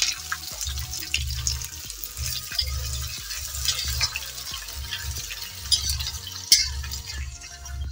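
Two large onions, finely chopped, hit hot tempering oil for bhindi do pyaza and give a steady sizzling hiss, heard under a rhythmic, thumping music track.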